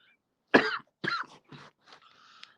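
A man coughs four times in a close, dry series, the first cough loudest and the rest fading, followed by a faint trailing throat sound.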